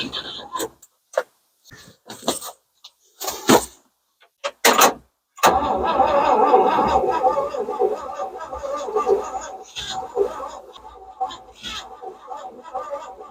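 Old 1960 C60 truck engine with a history of seizing catches after a few short sputtering bursts, then runs roughly for several seconds before fading, close by, with brief voices between the attempts.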